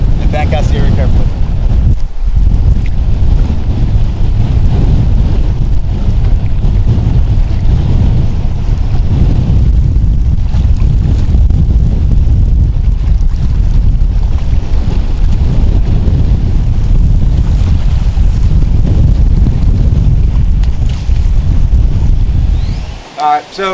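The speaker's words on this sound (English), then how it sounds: "As predicted, it was windy as all get out there" Strong, steady wind buffeting the microphone on a fishing boat, a constant low roar throughout, with faint water and boat noise underneath and a brief voice near the end.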